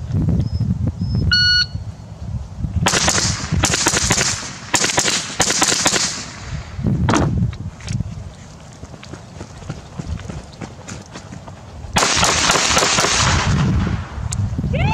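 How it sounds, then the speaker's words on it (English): Rifle shots ring out at shooting targets, coming as loud sharp bursts in uneven clusters over a noisy outdoor background with movement. "drop the rifle, run to the middle station, and then shoot the last target that we didn't shoot with the rifle."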